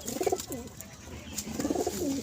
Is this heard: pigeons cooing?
yes